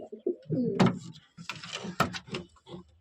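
Pigeons of the Andhra and Madras breeds coo in low, soft bursts close by, with a few brief sharper sounds in between and no speech.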